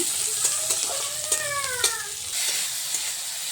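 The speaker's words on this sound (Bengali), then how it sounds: "এবারে কড়াইতে পেঁয়াজ দিয়ে দিলাম" Sliced onion frying in hot oil in a kadai (wok) while a shol fish curry is cooked, giving a steady close sizzle with light stirring scrapes and a few brief squeaky tones.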